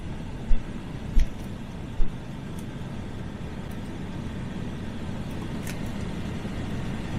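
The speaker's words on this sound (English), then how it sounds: "so I have the air conditioning going in the truck." Air conditioning running inside a GMC Sierra 1500 pickup truck gives a steady, low blowing hum throughout, with a few brief knocks and clicks near the start.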